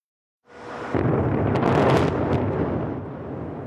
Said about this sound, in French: Une explosion en plein centre de Beyrouth, ce matin avant le lever du soleil.